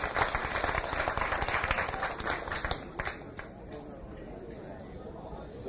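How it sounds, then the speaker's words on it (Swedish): Concert audience at a 1989 live show in Örebro applauds a guitarist's introduction, a burst of clapping and crowd chatter that thins and fades after a few seconds. "Stor applåd."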